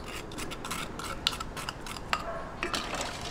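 A spoon stirring a melted sugar mixture in a pot for Filipino kakanin, with quiet repeated scraping and rubbing strokes and a few faint metallic clinks, close and with no talking.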